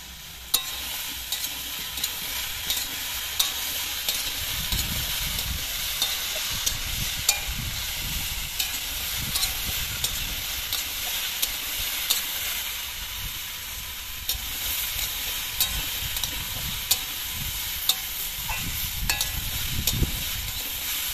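Slit green chillies frying in a pan with chilli powder, a steady faint sizzle with repeated scraping clicks of a spatula stirring.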